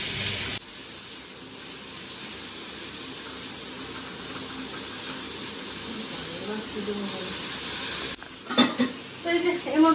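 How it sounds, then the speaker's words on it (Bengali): Onion and rice frying in a pan over a high flame give a steady, close sizzling hiss, with a few sharper stirring clatters near the end. "ভালো করে এটা ভাজতে হবে হাই ফ্লেমে"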